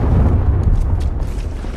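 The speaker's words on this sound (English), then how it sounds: "Friendly cruise missile deployed." A deep, rumbling blast from a cruise missile strike in Call of Duty Modern Warfare II, a loud, sustained low roar of explosions without voices.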